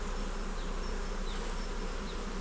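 Honey bees buzz at a beehive during beekeeping, a dense steady hum of many insects heard close and alone.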